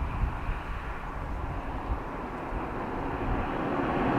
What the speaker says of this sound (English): That's C-130.